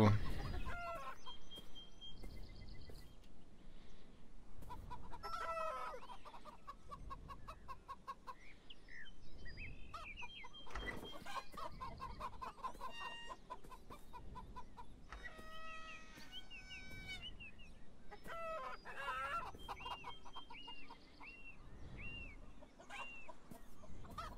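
A flock of chickens in a pen in the game Beyond Eyes keeps up continuous clucking, with overlapping calls and occasional crow-like cries throughout, fairly close and steady.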